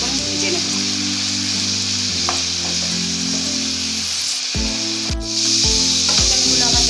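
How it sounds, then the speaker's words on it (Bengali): Chicken fries in a pan with turmeric and Kashmiri chilli powder, giving a steady, close, loud sizzle with a few scraping stirs and spoon knocks toward the end. No one speaks. "হলুদ আর কাশ্মীরি লঙ্কা গুঁড়ো দিয়ে চিকেনটাকে আবার কিছুক্ষণ ভেজে নেব।"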